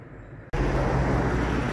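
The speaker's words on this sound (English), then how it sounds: "So excuse the roadside noise." Steady roadside traffic rumble near a home garden, a broad continuous wash of passing vehicles that swells abruptly after a half-second of quieter background, with no talking.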